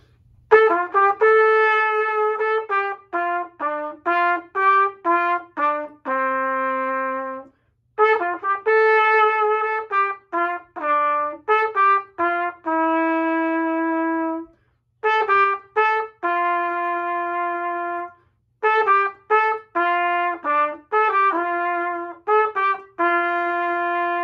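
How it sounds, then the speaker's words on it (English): Solo trumpet, a high brass instrument from a school band, plays a series of clear sustained notes in short phrases with brief pauses between them, loud and close with no talking. "That's a trumpet."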